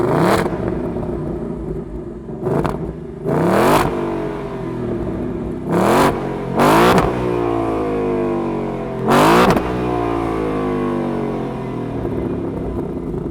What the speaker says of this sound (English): So that V8 engine definitely sounds good.